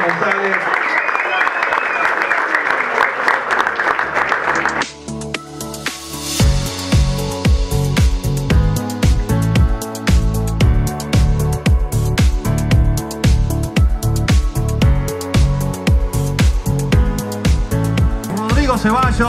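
A presenter talks at the launch event for the Argentine rally championship, and applause follows. A loud, pulsing music track with a heavy beat then kicks in and dominates the rest.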